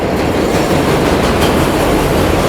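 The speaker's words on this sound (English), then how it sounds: "Now I'm gonna let this train pass." A train rolls past close by, a loud, steady rumbling roar of wheels and rail noise with faint clattering that stays constant throughout, with no voices.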